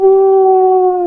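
A voice imitates a dog's howl with one sustained, steady, loud wavering tone lasting about a second, alone.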